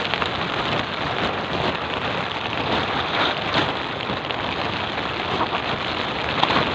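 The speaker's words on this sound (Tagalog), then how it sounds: "Opo, itong ulan." Steady rain pours down at sea during traditional handline fishing off Guiuan, a dense continuous hiss of drops on surfaces filling the scene evenly with no speech.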